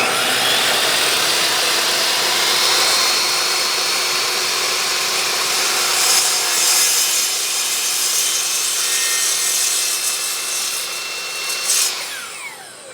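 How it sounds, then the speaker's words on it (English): RIDGID R4123 miter saw running while its blade plunges through the center of a workpiece, a loud steady whine and rasping cut that holds for several seconds, then tapers slightly with a brief bump near the end. "now that we got the saw plunged through the middle there"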